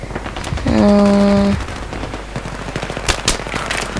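Gunfire in Battlefield 3 team deathmatch: a loud tonal burst is followed by scattered sharp shots and a quick rapid volley, close and punchy over constant game noise.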